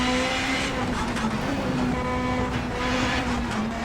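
Citroen rally car in WRC 9 driving at speed, a steady loud engine drone with a strong held tone and tyre and gravel noise running throughout, no pauses.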